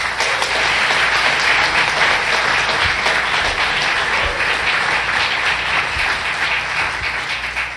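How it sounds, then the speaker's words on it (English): A large crowd at an event in Phoenix, Arizona gives a loud, sustained round of applause that fills the whole stretch. The clapping is steady and dense and only eases slightly at the very end. "Let's give a big round of applause."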